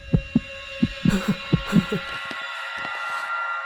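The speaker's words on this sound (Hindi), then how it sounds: "ये मेरे दिल के धड़कने की आवाज है।" A heartbeat sound effect from a Hindi-dubbed South Indian film, a run of deep, evenly spaced thumps in a quickening rhythm over a steady low hum. The beats fade into quieter, sparser pulses.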